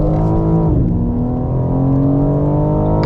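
BMW G80 M3 accelerating out of a corner on BMW's Spartanburg factory track, a loud close engine note holding briefly, dipping, then climbing steadily in pitch as the revs build.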